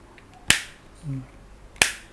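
Two sharp plastic snaps about a second apart, close and crisp, an OEM AirPods Pro charging case lid clicking shut, with a faint low hum between them.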